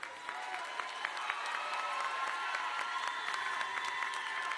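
Applause from the audience at a high school engineering graduation ceremony, a steady patter of many hands with a few sharper individual claps standing out, moderately distant and sustained throughout.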